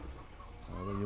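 A hen gives a brief, close clucking call out on a village road, rising toward the end.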